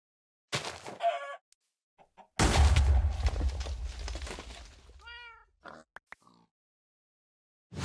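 Chicken clucks and squawks from a Minecraft game running the FTB Infinity modpack, arriving in short separate bursts with a louder, longer call in the middle and quiet gaps between them.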